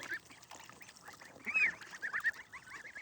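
Ducklings and goslings out on a grassy front lawn near a pool, giving faint, scattered peeps and soft honking calls close by, with a brief louder chirping burst midway and no talking.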